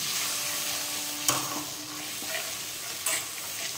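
A spice paste of ginger, cumin and dried chilli sautés in a pan for hilsa pulao, a steady close sizzle broken by two sharp scraping stirs, with no speech.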